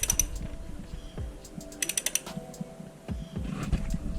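A wrench ratchets as it loosens the handlebar riser bolts on an Indian Springfield Dark Horse motorcycle, giving close, quick bursts of metallic clicks with short pauses between strokes and no talk.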